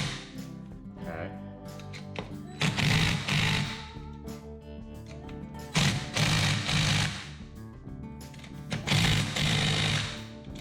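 A power tool tightens bolts on a Polaris Ranger 500, giving three rattling, hammering bursts of about a second each, separated by quieter gaps.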